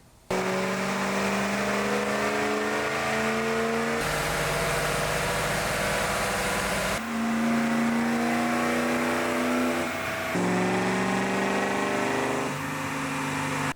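A Ford 6.0 Power Stroke diesel truck on a dyno, its engine loud and steady as it revs through repeated climbing runs, with pitch rising in stages and brief shifts between pulls.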